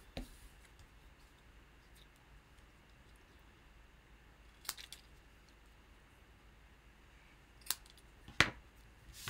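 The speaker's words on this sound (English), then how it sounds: "And then snips." Snips cut through card paper in a quiet room, giving a few faint, crisp snaps spaced apart, the sharpest two near the end.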